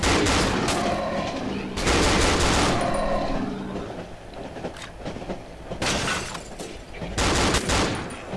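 Gunfire in the survival horror game Cry of Fear: rapid bursts of shots in several volleys separated by brief pauses, loud and dense, with no voices over them.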